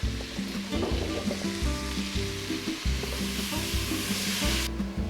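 Onions and peppers sauté in a hot Instant Pot with a dense, steady sizzle while a utensil scrapes and drags repeatedly across the bottom of the pot.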